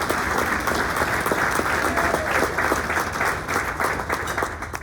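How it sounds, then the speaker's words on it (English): Steady audience applause at a State of the City-style civic address fills the room, a dense even wash of many hands clapping throughout without pause. "That should be under applause."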